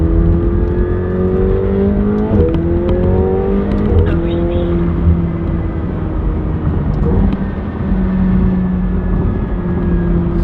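A Rolls Royce accelerates on the freeway, its engine a steady droning hum rising and shifting in pitch under loud road and wind noise, heard from inside the cabin.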